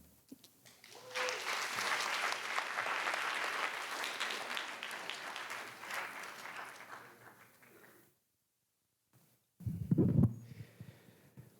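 A school writers' week audience claps for a talented student group, a dense, moderately loud round that builds, holds, and tapers off into a short silence, followed by a brief low thump.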